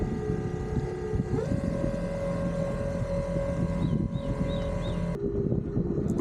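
Electric boat paddle driven by a C80-100 brushless motor on two Makita batteries in series at 36 volts, a steady close motor whine that shifts pitch midway and again near the end, with wind over the microphone.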